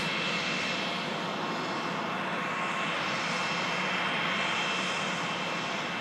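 An EasyJet airliner at Manchester Airport roars with steady, loud jet engine noise for several seconds, a continuous broadband rush with no voices.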